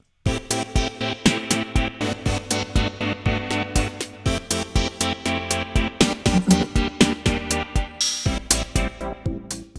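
A bright synthesizer lead plays a melodic line over a steady electronic backing track with punchy rhythmic beats, loud and continuous with no talking.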